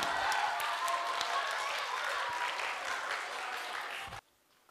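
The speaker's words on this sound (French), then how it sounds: "On l'applaudit bien fort." Applause from a school audience for a fifth-grade class at a reading-aloud contest, a steady, dense round of clapping that fills the room and then cuts off abruptly near the end.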